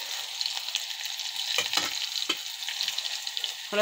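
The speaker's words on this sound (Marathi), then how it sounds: "आता जिरा आणि कांदा घालून घेऊ" Cumin and onion fry in hot oil for a potato dish, a close, lively crackling sizzle with several stirring scrapes breaking through, no talk.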